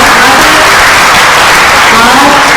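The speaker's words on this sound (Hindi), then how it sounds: "इनके लिए जोर से तालियां" Audience applause after a Hindi comedy stage play: dense, steady clapping from a crowd that fills the whole stretch without pause.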